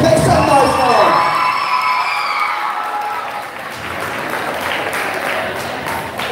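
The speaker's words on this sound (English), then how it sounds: "deserves another round of applause. Make some noise for him." A crowd at the CCSS Anniversary Awards 2024 breaks into sustained applause mixed with loud cheers and whoops, a dense wall of clapping and shouting that holds steady throughout with no gaps.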